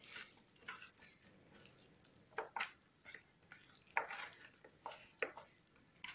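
Chicken nugget mixture seasoned with garlic, ginger, salt and pepper being mixed by hand in a bowl, giving soft irregular squelching and wet smacking sounds, close and fairly quiet, with no talking.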